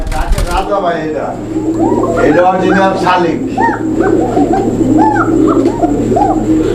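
A pair of Koka pigeons coo repeatedly in soft rounded rising calls, close and steady over a low hum and background bird chatter, with a short burst of noise at the start.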